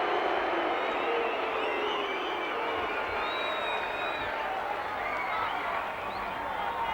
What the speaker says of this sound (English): Give him a big cheer, the winner of the Castrol 400